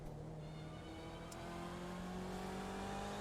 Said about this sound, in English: These BMWs sound so great